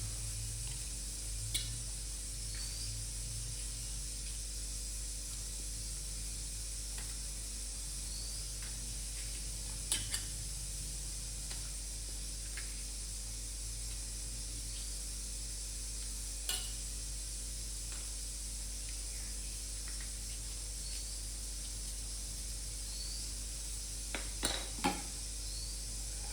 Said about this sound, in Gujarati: તો વઘારી નાખીએ આપણે.